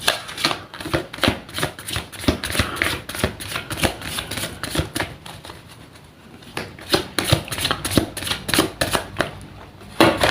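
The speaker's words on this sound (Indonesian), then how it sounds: "Langsung saja saya shuffle kartunya" A deck of tarot cards is shuffled steadily for about ten seconds, a dense run of quick, close riffling flutters with a brief softer lull partway through.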